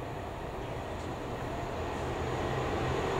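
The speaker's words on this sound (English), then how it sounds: "Non-stop Freightliner." A non-stop Freightliner freight train hauled by locomotive 66420 rolls past nearby, giving a continuous loud rumble and roar of wagons with no clear breaks.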